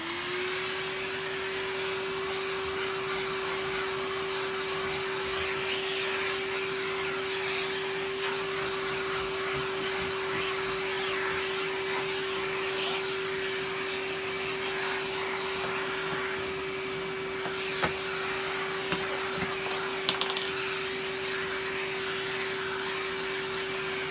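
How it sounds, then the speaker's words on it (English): A vacuum cleaner drones steadily and loudly with a constant motor whine while it sucks up debris from a plastic cone cover, running without a break and ending in a few brief knocks and rattles. "so let's finish off vacuuming that up"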